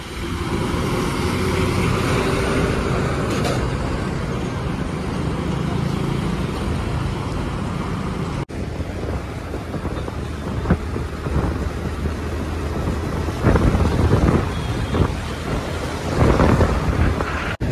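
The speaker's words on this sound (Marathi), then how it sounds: "तर तुम्ही बघू शकता आता इथे थोडा ट्रॅफिक वाटतोय. गाड्या हळूहळू चालत आहेत." Slow-moving road traffic rumbles steadily, a broad low roar of vehicle engines and tyres that stays loud throughout, with a few louder passing swells near the end.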